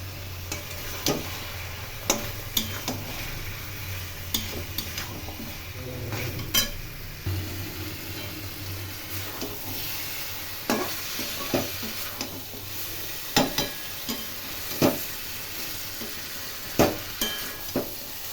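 A thick mutton curry sautés in a pot with a low steady sizzle, broken by repeated scraping and clinking as a spoon stirs against the metal at irregular intervals.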